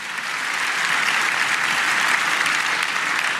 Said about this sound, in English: let's give our Board of Commissioners a round of applause